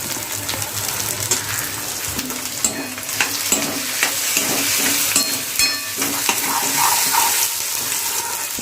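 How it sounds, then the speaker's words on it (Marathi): Onion and tomato fry in a pan for a spicy dried bombil fry, a steady broadband sizzle with intermittent stirring scrapes and clicks, close and continuous with no talking. "त्यामध्ये आपण लगेच टमॅटो घालूया त्यालाही चांगला फ्राय करून घेऊया"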